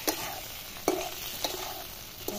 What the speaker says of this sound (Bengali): আলুটা ভাজা হয়ে গেছে লাল লাল করে